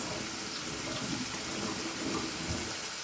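Continuous rushing hiss of running tap water as hands are washed, steady and fairly close, with no talking.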